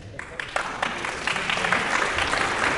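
Audience applause breaks out for a volunteer coming up on stage, a steady wash of clapping that swells and holds for a few seconds at moderate loudness.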